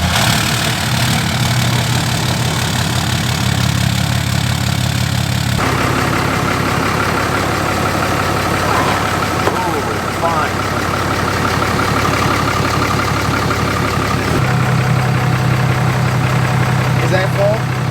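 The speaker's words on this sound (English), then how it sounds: "start it up and then we'll see how much it revs" A Ram Mega Cab pickup's high-output engine runs steadily close by, a low rumbling idle with revving surges, under people talking throughout.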